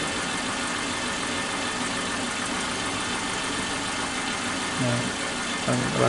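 A Suzuki Katana engine with one dead, black, crusted spark plug idles roughly, a steady close rumbling drone with vibration, the rpm sagging and wavering as it nears stalling, with brief bumps near the end.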